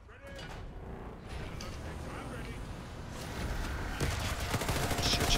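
Rapid turret fire in a first-person shooter set in Pripyat, with dense bursts building in loudness toward the end while players talk over it.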